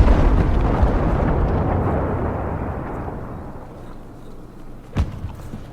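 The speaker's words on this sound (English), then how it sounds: "out of nowhere came a huge explosion" A huge explosion at a house turned student flat with a large shed out back, heard as a dense, loud broadband roar that slowly fades over several seconds, followed by a short sharp crack near the end.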